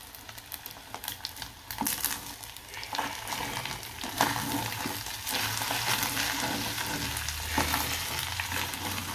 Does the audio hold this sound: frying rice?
yes